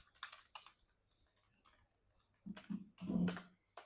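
Computer keyboard typing in short bursts of crisp key clicks, a quick cluster at the start, sparse taps in the middle and a louder flurry near the end, close and alone.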